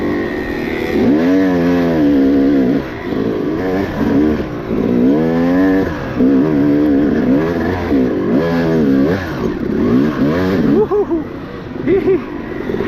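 YZ two-stroke dirt bike engine revs repeatedly in short bursts, pitch rising and falling in a buzzing, rhythmic pattern, loud and close throughout the ride.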